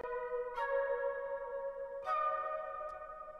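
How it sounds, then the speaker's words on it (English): Staccato flute section from the SINE plugin playing short detached notes that ring with a lingering tonal tail, two main hits about a second and a half apart plus a faint later blip. "let me give you an example of where I use the flute section of SINE, which is on this staccato flutes"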